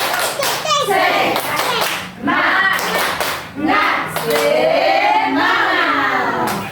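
A classroom group performs a rhythmic clap chant, bursts of patterned clapping alternating with children's and a teacher's voices chanting along, loud and close.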